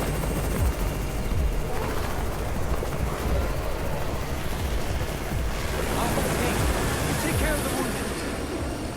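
A helicopter's rotor thumps and roars as it arrives in the zombie game Undawn, over a dense, rumbling background, steady and fairly loud throughout, with game-like ambient noise.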